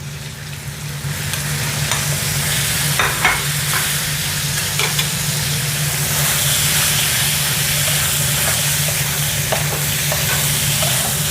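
Chicken breasts fry on a low flame in a pan, with a continuous sizzle broken by the scrape and clatter of stirring; no one speaks.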